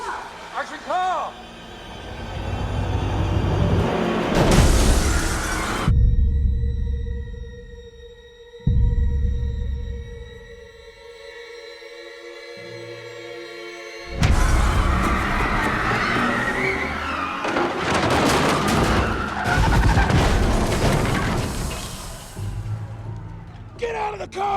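A car arrives on a film set amid loud crashes, shattering glass and skidding tires, with shouting and commotion throughout and a quieter stretch of steady tones in the middle before the noise surges back.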